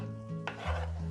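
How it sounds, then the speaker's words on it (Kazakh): Meat frying in fat in a pan for a summer qurmash dish sizzles steadily and close, with a stirring scrape partway through and no voices. "Енді етіміз әбден майы шытырлағанша тек қана құрмай қалғанға дейін қуырдық"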